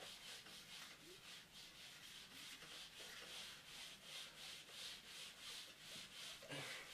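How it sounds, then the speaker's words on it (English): Writing is rubbed off a board in quick repeated back-and-forth strokes, a steady close scrubbing rhythm with no talk. "Now I'm going to rub that off in a minute"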